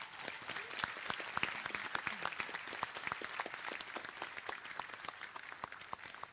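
Audience applause fills a graduation ceremony hall, a dense, steady patter of many hands clapping at even strength for several seconds, with no voices above it.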